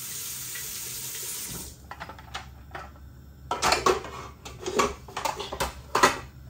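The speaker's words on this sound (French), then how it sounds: "Je vais mettre de l'eau chaude ici." Hot water pouring from a kitchen tap in a steady gush for under two seconds, then it stops and close clattering knocks of dishes and utensils follow, with no talking.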